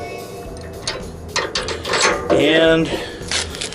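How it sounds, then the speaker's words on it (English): A 5/8 inch socket ratchets and a box wrench works on a bolt on a snow plow truck, giving close, repeated clicking and metallic rattling for a few seconds. "Then we're going to take our 5/8 inch socket and 5/8 inch box wrench"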